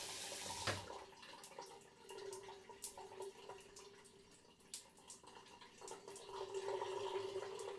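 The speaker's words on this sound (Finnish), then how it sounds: "Ei kai haittaa, että mä kusen tänne sun suihkuun." In a GTA roleplay game, a character urinates into a shower, a faint, uneven trickle and splash of water with small drips and bursts. The sound rises and falls over several seconds.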